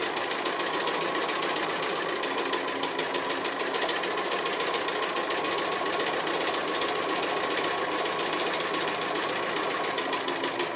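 A sewing machine stitches an applique with a fast, steady mechanical clatter, running continuously at moderate volume with no talking.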